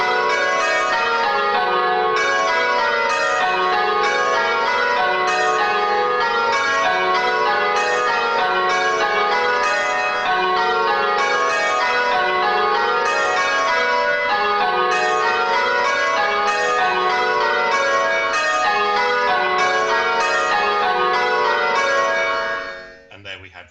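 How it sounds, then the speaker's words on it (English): Tower of church bells ringing a method, with the bells dodging at backstroke, heard as a steady, continuous cascade of overlapping rounds that carries on unbroken before cutting off at the end. "That's kind of your sign that at the backstroke, all the bells are going to dodge."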